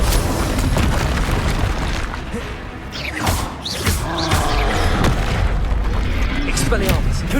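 Booming spell blasts from Bombarda and Confringo in Hogwarts Legacy, dense rumbling explosions and clashing combat effects filling the clip loudly and continuously, with a voice calling out during the fight.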